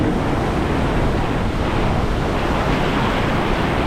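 Rough sea with heavy waves crashing during shore fishing, a loud continuous roar of surf and wind filling the whole stretch.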